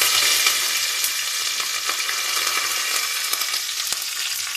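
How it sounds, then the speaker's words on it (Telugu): Cumin seeds, mustard seeds and curry leaves sizzle and crackle steadily in about three spoons of hot oil while tempering for a yogurt rasam, with a continuous close frying hiss and scattered pops. "ఒక 3 స్పూన్స్ ఆయిల్ పోసి దీనిలో 1 స్పూన్ అంతా జీలకర్ర, ఆవాలు"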